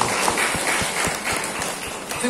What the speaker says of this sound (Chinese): 真正是得个大掌声一个。